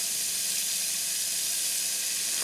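Meat frying and browning in a Dutch oven for goulash, a dense, even, hissing sizzle that holds steady and close with no talk.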